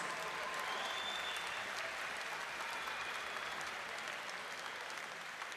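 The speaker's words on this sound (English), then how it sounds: "can we please have a round of applause for these two warriors?" Steady applause from a fight audience after three rounds of an Arsenal X hybrid-rules bout between two competitors, a dense, even wash of clapping lasting several seconds at moderate distance.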